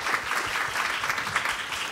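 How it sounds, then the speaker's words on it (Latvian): Applause from attendees at a precision medicine forum meeting, steady fairly quiet clapping from a room audience. "Aplausi, lūdzu!"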